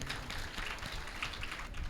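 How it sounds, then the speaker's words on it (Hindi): Audience clapping for an Ayurveda expert being introduced at a talk, a steady, fairly faint patter of many hands throughout. "सुभाष गोयल जी के लिए सुंदर तालियां बजाइए"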